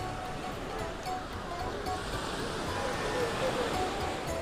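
Sea waves washing onto a dog beach, a steady broad rushing surf mixed with wind noise on the microphone, continuous and fairly loud without any distinct breaks.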